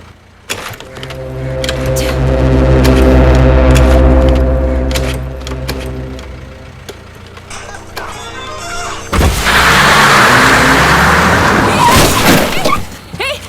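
A motor vehicle is being started. A loud, steady engine drone with a deep rumble holds for several seconds, then gives way to a harsher, noisy burst, and voices talk over it.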